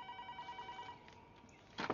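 A telephone rings faintly in a room, a steady electronic tone sounding for about a second before stopping, followed by a brief louder rustle or thump.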